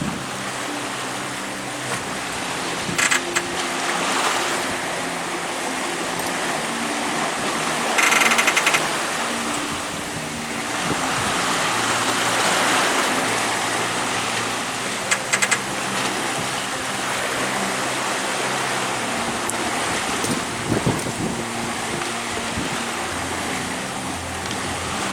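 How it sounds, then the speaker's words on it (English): Wind and waves washing against the bow of a sailboat under way at sea near the Bahama Bank, a steady broadband rush with occasional louder splashes, no talking. "It's such a cool moment to sit on the bow of the boat and enjoy the sound of the wind and the waves."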